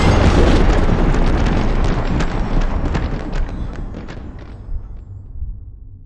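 A Minecraft orbital laser strike sets off a huge explosion, a deep rumbling blast with crackling debris that rolls on and slowly fades out.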